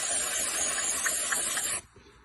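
A multi-purpose, non-oil-based lubricant is sprayed into a tool in one close, loud, steady hissing burst of about two seconds before it cuts off abruptly.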